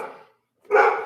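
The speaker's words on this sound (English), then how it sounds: "Who are we barking at, huh?" A dog barks twice nearby, two loud separate barks split by a short pause, with no talk over them.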